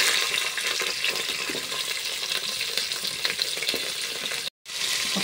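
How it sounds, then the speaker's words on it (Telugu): Drumstick pieces fry in hot oil for sambar, giving a loud, dense, continuous sizzle and crackle that cuts out for a moment near the end, with no talking. "ఒక నిమిషం నూనెలో ములక్కాయ ముక్కలు వేగనివ్వాలి."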